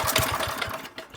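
Small carbureted engine cranking on choke, a brief run of rapid rhythmic chugging pulses that sputters and trails off without catching, close and fairly loud.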